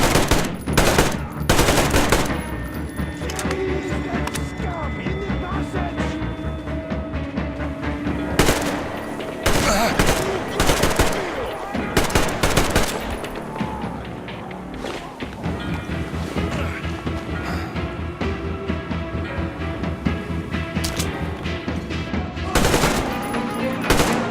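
Machine gun fire in the video game Metro Exodus during a frenetic, action-oriented shooting sequence: loud, sustained rapid bursts with scattered booming impacts, nearly continuous for the whole stretch with only brief lulls.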